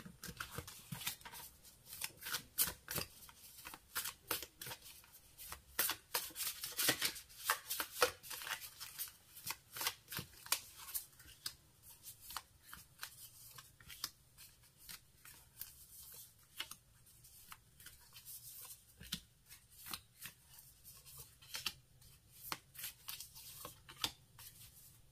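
Oracle cards are shuffled steadily for a reading, giving a long run of soft, rapid riffling and slapping clicks close by and fairly quiet, with no voice over them.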